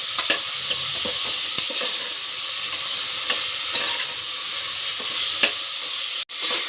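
Mixed vegetables for a pulao are stirred in a hot pan, giving a loud, steady sizzle close by with scattered scrapes and taps from the spoon.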